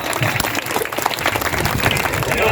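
Audience clapping for a villupattu folk performer near Madurai, a dense, steady burst of applause filling the whole moment with a busy crowd texture.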